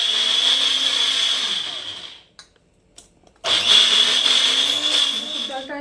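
A blender grinds soaked masoor dal into a paste, a loud steady whirring that cuts out for about a second, then restarts and runs on at full strength.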